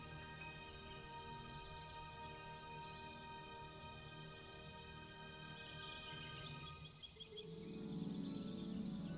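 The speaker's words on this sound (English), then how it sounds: "Male cicadas produce loud, species-specific calls using specialized timbal organs to attract mates, creating choruses audible across vast areas." Cicadas calling in Arizona form a steady, dense insect drone filling the whole clip, with the chorus swelling slightly louder toward the end.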